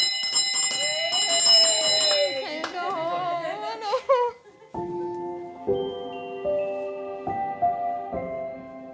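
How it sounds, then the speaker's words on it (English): A bell is rung in a hospital neonatal unit as parents prepare to take a premature baby home. Several bright, close strikes ring out over the first few seconds, followed by sustained clear tones. "Do I ring the bell?"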